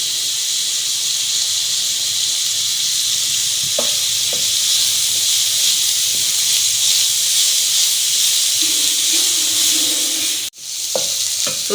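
Vegetables sauté loudly in a hot pan with a steady, dense sizzle and hiss that runs throughout, broken by a few soft stirring clinks and a short clatter near the end.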